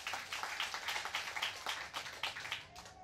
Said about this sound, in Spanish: Dele palmas fuertes, alábalo porque Él vive